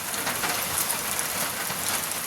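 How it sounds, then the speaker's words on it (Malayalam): Heavy rain pours down in a steady, dense hiss, with no other sounds and no voices. "ഇപ്പം നല്ല മഴ വന്നു."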